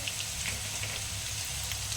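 Chillies sizzling in oil in a pan over a low gas flame while making Gujarati dry potato bhaji, a steady soft crackle and hiss with no talk.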